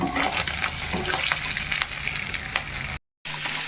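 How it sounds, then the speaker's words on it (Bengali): Shrimp fry in hot oil for a Bengali potol chingri dish, a loud, dense, continuous sizzle with light stirring scrapes that cuts out briefly near the end, then resumes. "এই যে চিংড়ি মাছগুলো ভেজেছি, এবার চিংড়ি মাছগুলো তুলে নেব"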